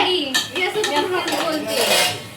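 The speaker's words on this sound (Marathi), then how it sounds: "मी भांडी धुते आणि माझी बहीण भांडी घासते" Dishes, pots and pans clink and rattle steadily while being washed at home, with metal cutlery and utensils clattering close up under running water and no talk.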